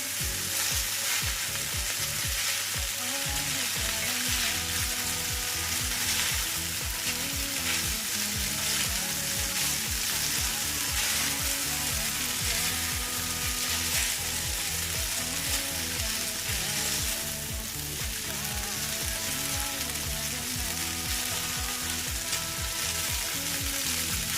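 Oyster mushroom spaghetti is stirred gently in a hot pan over low heat, giving a loud, continuous sizzle and crackle throughout, with a rhythmic, repeating pulse of scraping and tossing, heard up close and with no talking.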